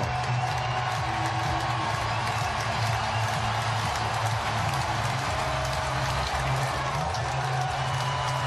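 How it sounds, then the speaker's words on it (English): Dense, steady roar of a huge stadium crowd at a 2010 Ohio State at Wisconsin college football game as the Wisconsin Badgers take the field, a continuous wash of cheering and noise with no clear breaks. "The crowd ready to explode as the Badgers file out of that tunnel."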